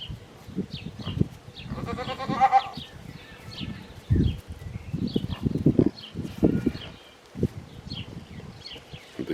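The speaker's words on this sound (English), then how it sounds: "So we're gonna let Carpenter out now, and I'm gonna let Rennie do that because it is her 4-H goat" A 4-H goat on a farm bleats several times, close and fairly loud, the calls coming in short bursts with pauses between them.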